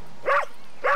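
A dog in the film Peter Benchley's The Beast gives two short, whining barks about half a second apart, close and clear with nothing else over them.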